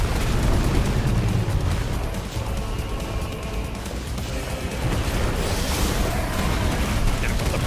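Explosions in the video game Final Fantasy XVI boom and rumble continuously in a dense, loud wash of blasts and bursts, with a brief sharper crackle near the end.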